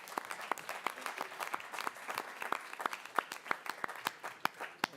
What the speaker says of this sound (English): So we want to applaud them as well.